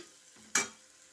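Paneer and tomato curry frying in a pan, one short sharp burst of sizzle and scraping as the mixture is stirred, close and loud, then quiet low sizzling continues.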